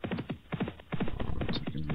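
A racehorse gallops past the grandstand during a novices' hurdle race, its hoofbeats a quick, close run of rhythmic thuds, fairly loud and on their own.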